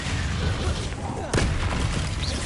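A Bombarda blast spell goes off in the Hogwarts Legacy video game: one sudden loud boom with a crackling burst over busy background game noise.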